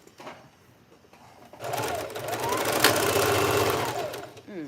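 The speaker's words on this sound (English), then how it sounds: "I'm sewing it from the side to the dart, to the inside, to the outside" A sewing machine stitches a jacket seam in one steady, buzzing run lasting a few seconds, close and fairly loud, after a quieter lead-in with faint voice.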